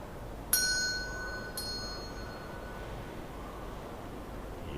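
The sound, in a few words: bell ringing in Henry Ford Museum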